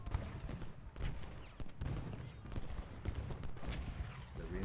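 Artillery fire rumbles through a Gettysburg battle in the Ultimate General video game, with repeated faint booms and rolling gunfire in an irregular rhythm that sounds distant and muffled.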